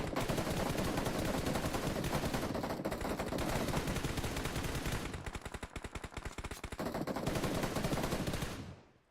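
Dense, continuous automatic gunfire from a video game match in a league finals showdown, with overlapping rapid bursts that stay loud throughout and cut off abruptly at the end.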